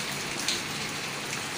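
Steady heavy rain falling outdoors during a rain bath, a dense, even hiss that fills the whole stretch with no voices.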